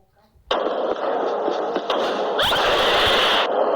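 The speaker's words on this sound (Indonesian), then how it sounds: "Yang meledak itu granat" A loud grenade blast rips through a sustained roar of noise, with a sharp crack partway through, close and harsh.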